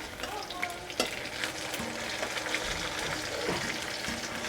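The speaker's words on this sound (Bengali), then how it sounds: "আলুগুলো ভাজা হয়ে গেছে লাল লাল করে" Potato pieces frying in hot oil in a home kitchen, a continuous bright sizzle with occasional stirring scrapes and small pops, close and steady with no talk.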